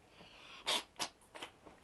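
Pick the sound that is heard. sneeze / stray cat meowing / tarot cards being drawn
sneeze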